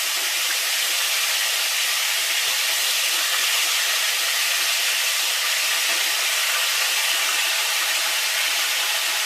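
Chicken wings sizzle in a hot pan after being flipped, a loud, steady, broadband frying hiss that continues unbroken with no voices over it.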